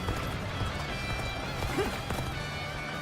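Hooves of a galloping horse in the video game Dynasty Warriors Origins, a steady clip-clop rhythm at a fairly low level over busy game background noise, with no talk.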